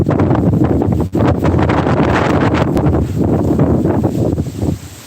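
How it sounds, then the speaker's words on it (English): Strong, continuous wind roaring and buffeting against the microphone, loud and steady throughout with a brief dip partway. "I'm just waiting for the wind because it's really windy"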